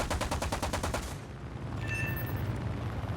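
A rapid, evenly spaced burst of heavy cannon fire from an F4U-1C Corsair in War Thunder for about a second, then a droning engine roar continues underneath.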